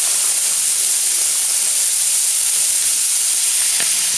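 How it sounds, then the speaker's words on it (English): Ingredients for paella frying hard in a hot pan, giving a steady, even sizzle and hiss close by that runs unbroken for about four seconds, with no voices. "I'm going to fry that quite hard"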